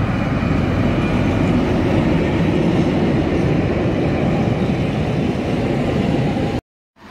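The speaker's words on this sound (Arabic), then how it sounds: "بيمر القطار." A train rolls past a guesthouse in the village of Zell am Ziller, Tyrol, Austria, a loud, steady rumble of wheels and cars that holds close and constant before cutting off abruptly near the end.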